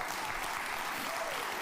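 Steady, dense applause from a canned audience track runs continuously and evenly at moderate level throughout, with no pauses or voices standing out.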